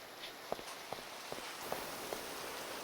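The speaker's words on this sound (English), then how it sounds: "Oh, good timing with the rain." Steady rain hisses over a video game village, quiet and even throughout, with a few faint soft taps spaced about half a second apart.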